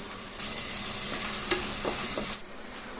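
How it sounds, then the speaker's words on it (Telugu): Onions sizzle steadily in three to four tablespoons of hot oil, frying toward golden for a chicken pulao. A close, even hiss runs for about two seconds and is broken by a few soft stirring clicks, then drops away abruptly. "అందులో ఒక three four table spoons oil వేసుకోండి అందులో ఆనియన్స్ వేసుకుని బాగా గోల్డెన్ కలర్ వచ్చే వరకు వేయించుకోవాలి"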